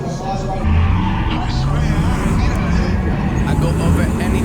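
A drift car's engine revs hard while its tires skid and squeal in a steady loud stretch, heard from inside the car as people talk.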